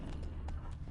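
Roach, a horse in the Witcher 3 video game, runs with rapid clip-clopping hooves over a low rumbling game backdrop, steady and close for under a second.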